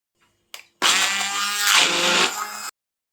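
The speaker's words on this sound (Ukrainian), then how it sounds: "і все це зараз зіб'ємо блендером" A blender whirs loudly at steady high speed for about two seconds after a brief click, mixing cottage cheese and sour cream, then cuts off abruptly.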